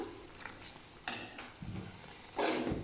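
Beef and fat stirred together in a pot during a beef and potato mash recipe, a few scraping spoon strokes with soft frying sizzle, close and fairly quiet with brief louder bursts.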